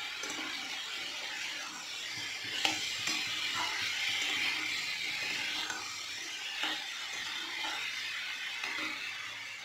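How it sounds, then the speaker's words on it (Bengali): Spices being stirred into beetroot vegetables frying in a pan: faint steady sizzle with soft intermittent stirring and scraping, no voices. "এটা সবজিটার সাথে মশলাটা আমি ভালোভাবে মিশিয়ে নেব"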